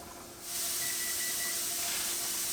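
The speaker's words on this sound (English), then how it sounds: "When I see steam start to come out of the vent port, I set the timer for 10 minutes" Steam hisses steadily from the vent pipe of a pressure canner while meat is being canned, starting quietly then rising after about half a second into a loud continuous rush with a faint whistling tone.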